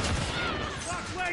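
A close, loud, continuous stream of rapid shots rattles through a firefight in the video game A Way Out, with a voice talking faintly underneath.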